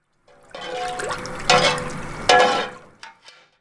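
Beef stomach ferment mixed with lactose serum being stirred by hand in a vessel, a wet sloshing swish with a few stronger splashy strokes, close and alone with no talk.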